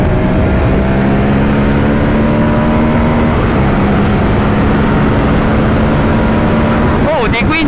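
Moto Guzzi V100 motorcycle ridden at high speed on the open road, a loud steady engine drone with heavy wind rush throughout, a shift near the end.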